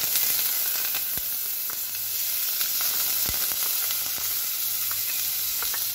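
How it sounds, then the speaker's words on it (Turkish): Onions sauté in oil for a meatball stew, producing a bright, constant hissing sizzle with a few faint clicks and stirring taps, loud and close with no speech. "soğanlarımız kavruldu"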